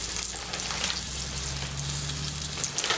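Coated chicken pieces fry in a pan, giving a dense, steady crackling sizzle close by with no talking.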